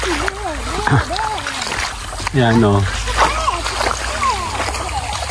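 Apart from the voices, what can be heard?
water splashing while bathing in a river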